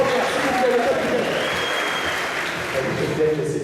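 An audience at an amateur rugby awards ceremony applauds the senior team coaches, a continuous wash of clapping with cheers mixed in and voices talking over it.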